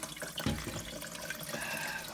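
A toilet cistern refills through a newly replaced inlet valve, a steady close hiss of running water with a short gurgling splash early on, no speech over it.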